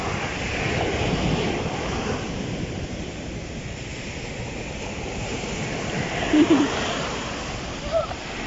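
Strong ocean waves crashing at a beach, a steady loud roar of surf mixed with wind buffeting the microphone, with faint voices now and then.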